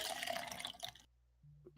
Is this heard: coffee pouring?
yes